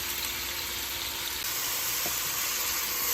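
Oxtail and cabbage sauté in a pan over moderate heat, giving off a continuous, even sizzle and hiss that stays steady and fairly loud throughout, with no voices.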